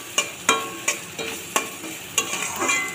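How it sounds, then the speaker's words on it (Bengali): Fried semolina is stirred in a wok, with sharp rhythmic scrapes about every half second over a soft background sizzle, close and clear with no talking. "এবার আমি এই ভাজা সুজিটাকে হালকা করে টেনে দিচ্ছি আমি কড়াইতে"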